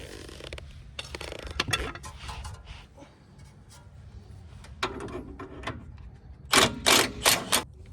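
A ratchet backs out a very long through-bolt on a Ford Explorer ST suspension arm, sharp clicking bursts in short runs with quiet gaps, close and fairly loud.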